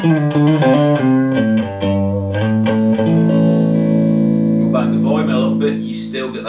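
An electric guitar with a single-coil pickup plays through a Soldano Astroverb 16 1x12 combo amp, picking a descending run of notes before letting a chord ring out sustained and clear.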